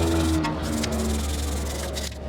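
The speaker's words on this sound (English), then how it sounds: "I'm just kind of brushing some of this dirt and debris out of there." Short, close scratchy brushing strokes as dirt and debris are scrubbed off a front brake caliper on a 2015 Lexus LX 570, with no talk.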